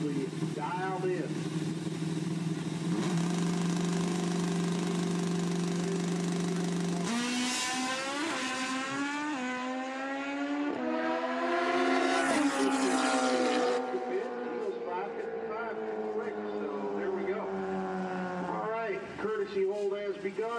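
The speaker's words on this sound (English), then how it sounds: "Big Rodney on his Kawasaki is usually dialed in" A Kawasaki drag-racing motorcycle at a nationals event idles with a low steady burble, then revs hard in rising, falling bursts of engine roar, loud and fairly near.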